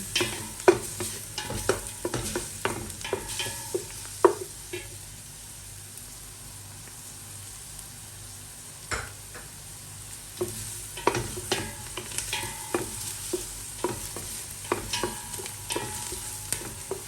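Garlic sautés for a Filipino-style lasagna sauce, a constant close sizzle punctuated by clusters of stirring scrapes and taps, with a quieter stretch in the middle before the stirring picks up again.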